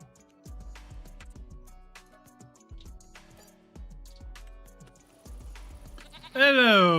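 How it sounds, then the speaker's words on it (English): Goats in the farming game Farming Simulator 25, with a loud wavering bleat near the end after several seconds of soft plucked game music. "Hello, bitty goats."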